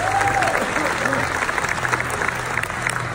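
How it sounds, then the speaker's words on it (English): Convention crowd at an Enagic global event bursts into loud, continuous applause, with scattered voices and cheering mixed into the clapping throughout. "So please give Enagic some big applause."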